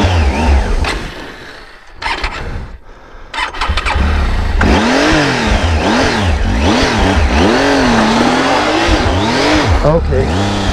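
Yamaha Tenere 700 adventure motorcycle pulling away in gear on a road, its engine rising and falling through several throttle swells, loud and close, with wind rush and occasional talk mixed in.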